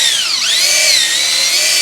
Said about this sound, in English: Stick it right in the end of your impact wrench, drill itself into your tire